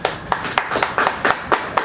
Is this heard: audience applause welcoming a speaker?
yes